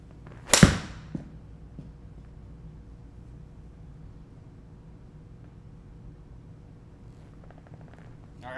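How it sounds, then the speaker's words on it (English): A golf club strikes a golf ball indoors at a golf center with a single sharp, crisp crack, followed by a faint thud of the ball landing, then quiet room hum. "So now I will hit a shot"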